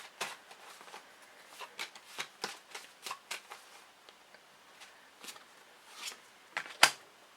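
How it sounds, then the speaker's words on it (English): Tarot cards are shuffled by hand in soft, crisp riffles and light flicks, close and quiet, with brief pauses between bursts and one sharper snap near the end. "I'll pull some extra cards and we'll see what's going on with this Ace of Cups"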